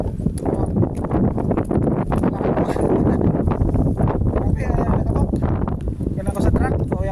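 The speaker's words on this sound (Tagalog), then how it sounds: "ang kapal lang ng sunstorm. Malakas yung hangin." Strong gusting wind during a sandstorm buffets the microphone in a constant rough roar, with someone speaking over it.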